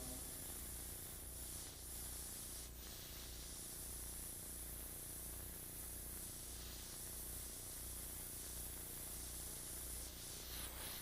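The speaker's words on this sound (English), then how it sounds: "You notice how I'm controlling the brush here, freehand, in order to actually do my illustration with the airbrush." An airbrush sprays paint onto an illustration in a soft, steady hiss lasting throughout, faint and uniform, with a low hum beneath and no talking.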